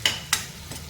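Onion and chili paste frying in oil in a pan gives off a soft sizzle, broken by two quick scraping stirs at the start and a fainter one near the end.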